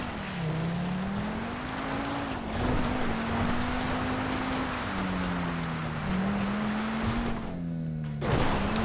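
A loud, steady mechanical drone with a wavering low hum from large turning windmills in the video game Grand Theft Auto V, under constant wind-like noise and no speech.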